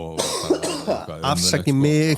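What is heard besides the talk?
cough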